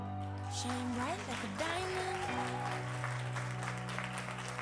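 An audience claps to welcome Jen Lynch onstage at a business gathering, the faint applause blended with music and voices throughout.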